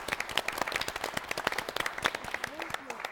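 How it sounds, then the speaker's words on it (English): A round of applause from a small group after a timed word game, with dense scattered claps at a steady level and a voice talking briefly near the end. "give him a round of applause"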